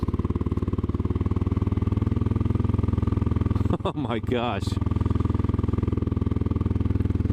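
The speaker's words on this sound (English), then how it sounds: "Thank God for engine braking." A Royal Enfield Classic 500 motorcycle engine drones steadily at low revs while engine braking down a steep hill, with a brief exclaimed remark from the rider partway through.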